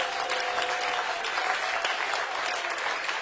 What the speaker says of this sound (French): Donnez une acclamation au Seigneur.